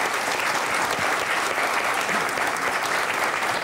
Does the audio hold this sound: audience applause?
yes